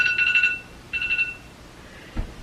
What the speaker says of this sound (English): Oh, I've got an alarm.